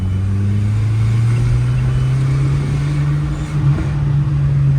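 A smoking 20-year-old Volkswagen GTI accelerates under turbo boost, its engine drone loud and steady, rising gradually in pitch as it pulls, heard from inside the car.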